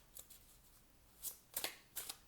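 Large oracle cards being shuffled by hand, a few quiet separate riffling bursts with short gaps between them and no talk.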